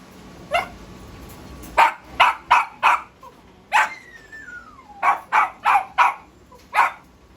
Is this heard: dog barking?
yes